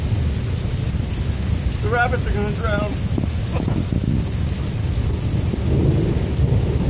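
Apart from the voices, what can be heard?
thunderstorm with thunder and rain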